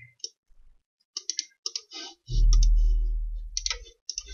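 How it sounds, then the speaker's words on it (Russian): Computer mouse button clicked several times in short, crisp ticks, close and isolated, separated by quiet gaps with a brief low thump in the middle. "нажимаем кнопку «Найти»"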